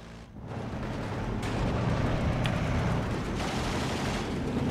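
Mortar and artillery fire in the Steel Division II strategy game, with a steady, dense roar of distant rumbling blasts and a few sharper cracks rising out of the continuous battle noise.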